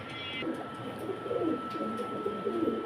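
Pigeons being kept for sale coo in repeated soft, low calls at close range, with a thin steady tone and faint background noise throughout, and no one speaking.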